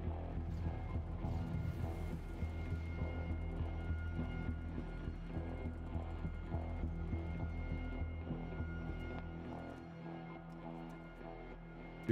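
An ArmA 3 helicopter flies at night in a hillside battle, a low, throbbing rotor rumble that holds steady throughout and fades slightly near the end.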